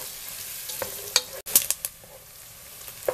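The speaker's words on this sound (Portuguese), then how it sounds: "vamos deixar a cebola ficar bem fritinha, bem transparente, junto com o alho aqui, junto com a bacon, junto com a nossa linguiça calabresa" Onion, garlic, bacon and calabresa sausage frying together in a pan, a soft continuous sizzle broken by several sharp clinks and scrapes of a utensil.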